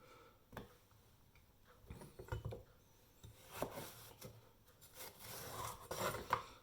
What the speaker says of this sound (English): Just chop the end off, and then we just cut it into strips like that.